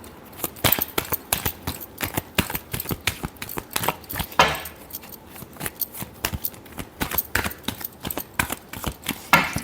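Tarot cards shuffled by hand in a steady run of quick, crisp riffles and snaps, close and fairly loud, with a brief louder flurry near the middle and no voices.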